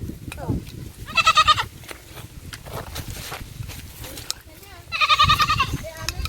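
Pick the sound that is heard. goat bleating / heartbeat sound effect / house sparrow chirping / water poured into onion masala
goat bleating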